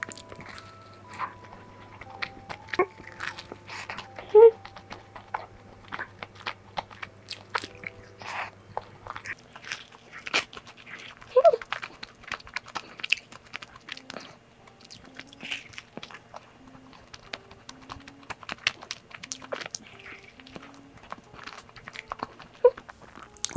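Close, quiet chewing of a crunchy custard-filled croissant, with scattered crisp bites and soft crackles spread across a long stretch, no talking.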